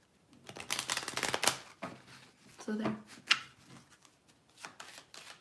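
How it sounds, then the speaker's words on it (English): Tarot cards are shuffled by hand in a few quick riffling bursts, close and fairly soft, with a short spoken remark in between. "That was the worst shuffle I've ever done."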